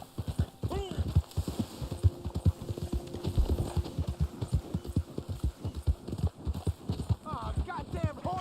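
Horse hooves clip-clop at a steady trotting rhythm in the video game Red Dead Online, close and constant for the whole stretch, with a brief whinny and someone talking over part of it.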